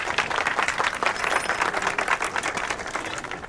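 An audience at a comedy stage show bursts into dense, continuous clapping, a steady crackling wash of many hands at fairly close range with no voices over it.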